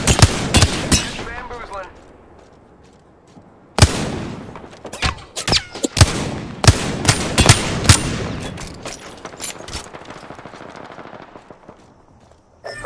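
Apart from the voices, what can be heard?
gunfire from enemies in the video game Apex Legends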